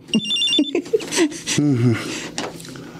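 A mobile phone rings in repeated electronic bursts, close and fairly loud, while people talk over it in a tense indoor scene.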